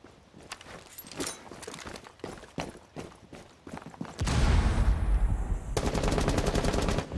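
Rapid gunfire bursts in a first-person shooter video game from a low-recoil weapon, with sparse early shots building to dense, loud sustained automatic fire toward the end.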